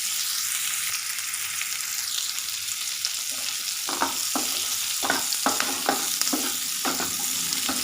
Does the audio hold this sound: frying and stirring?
yes